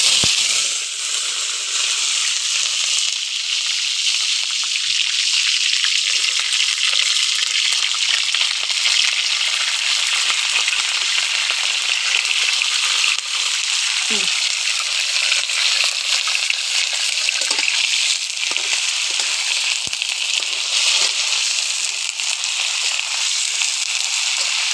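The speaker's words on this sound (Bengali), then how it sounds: "প্রথমে বেগুনটা ভেজে নিব।" Eggplant frying in oil makes a continuous, even sizzle that stays loud and unbroken for the whole stretch, with a few faint clicks and pops.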